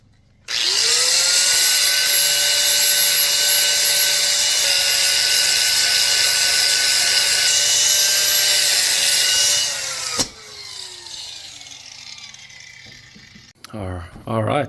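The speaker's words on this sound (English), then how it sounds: "Let's grind these up." A power grinder works on metal turbo pipes in a loud, high-pitched continuous whine that holds steady for about ten seconds, then cuts off and spins down, followed by quieter clattering handling sounds.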